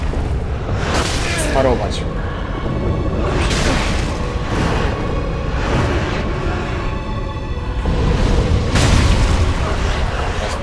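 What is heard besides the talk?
boss explosion attack in video game Dark Souls 3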